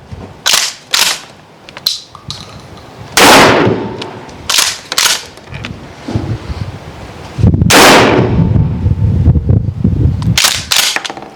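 Gunshots from a Billet AEA Zeus .72 caliber airgun and a 12-gauge Mossberg Maverick 88 shotgun fired outdoors, a series of sharp loud cracks spaced irregularly, several with long booming tails, some quieter handling noises between.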